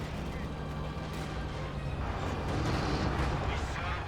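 Pack howitzer shells firing and landing on a Company of Heroes 2 battlefield, a dense rumbling barrage of booms and gunfire under a commentator's voice.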